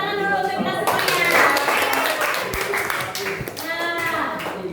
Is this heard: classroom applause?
yes